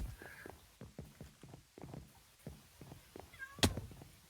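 A house cat meows close by, a short call early on and a louder, sharper meow near the end, over a quiet run of soft rhythmic pattering like paws or footsteps.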